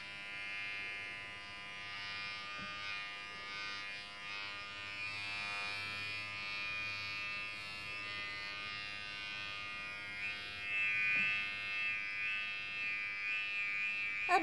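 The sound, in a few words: electric razor running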